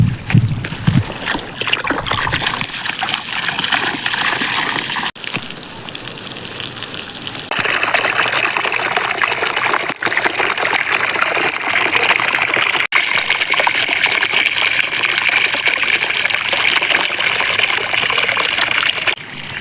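Water pours onto young mango trees in an orchard, a continuous close gushing and splashing that changes tone as the flow shifts, with no talking.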